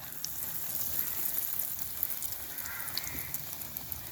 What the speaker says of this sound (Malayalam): ഈ തിളച്ച എണ്ണയിലേക്ക് ഇട്ട് കൊടുക്കാം.